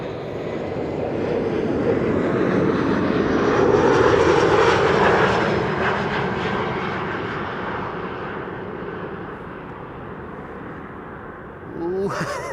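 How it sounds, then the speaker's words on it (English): KLM Embraer 190 jet arriving at Amsterdam Schiphol on a frosty December day, a loud, steady engine roar that swells as it passes close by, then slowly fades into a distant rumble. "an Embraer 190 arriving from Norwich"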